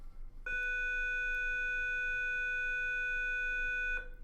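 An electric school bell rings with a steady, loud metallic tone for about three and a half seconds before cutting off abruptly, heard alone in an otherwise quiet room.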